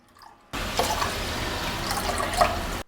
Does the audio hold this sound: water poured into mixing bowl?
yes